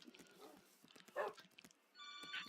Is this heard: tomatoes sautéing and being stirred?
no